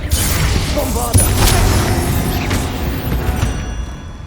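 A Bombarda blast spell in Hogwarts Legacy set off inside a tomb, with a deep rumbling boom and a sharp burst over a dense, continuous low roar of game effects, loud and close.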